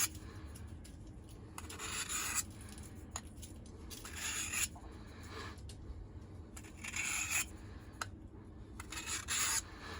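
A knife edge is honed on a Work Sharp guided field sharpener with soft, faint rasping strokes that come in repeated bursts over a quiet background hiss.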